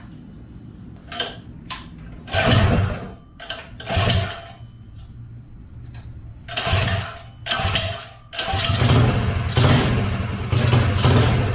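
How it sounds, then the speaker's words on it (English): A Predator 212 small engine fitted with a Hemi head and a header pipe sputters through several start attempts, then catches and runs loud and close with rough, uneven revving; someone speaks briefly. "Let's see if we can get this thing fired up with the Hemi head."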